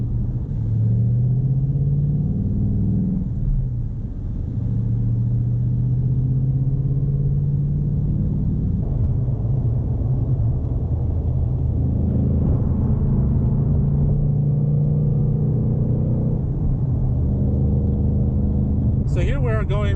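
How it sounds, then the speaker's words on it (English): Inside a Ford Mustang GT Bullitt on Whiteline lowering springs with MagneRide, a steady low road rumble and engine drone fill the cabin on the highway, with a few soft thumps over bumps and someone talking throughout. "So here we're going over some bumps on the highway."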